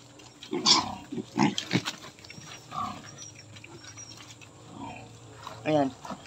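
Native pigs eating kangkong (water spinach), with snorts, grunts and crunchy chewing in short irregular bursts nearby, mixed with someone speaking now and then.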